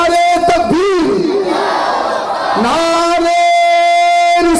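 A crowd at a Jashn-e-Garib Nawaz gathering at Juni Masjid, Napa Talpad, roars back a Nara-e-Takbir slogan: loud, sustained massed chanting, amplified and echoing, with a lead voice and cheering voices blending into one long shout.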